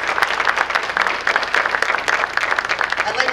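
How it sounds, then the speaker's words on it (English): A crowd at a veterans' luncheon claps in a steady round of applause for the meal staff, dense and sustained for several seconds. "I'd like to give a round of applause to all of them"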